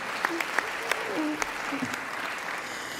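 An audience at a Bloomfield College baccalaureate ceremony claps in a steady, moderately loud wash, with a few sharper individual claps and voices and cheers mixed in.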